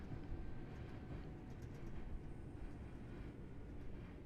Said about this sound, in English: As we come into Bourneville, we both have a crossing train here.